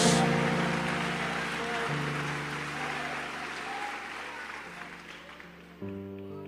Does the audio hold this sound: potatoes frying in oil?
no